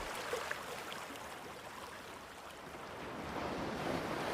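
Ocean waves wash onto a shore in a steady, rolling roar of surf with a soft breeze. The sound is continuous, swelling slightly toward the end, with no voices.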